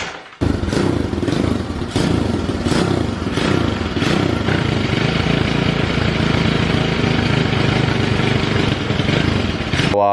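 A pit bike engine with the exhaust packing removed runs loud and raw for about ten seconds, a continuous rattly drone with uneven thumps and clatter and no speech.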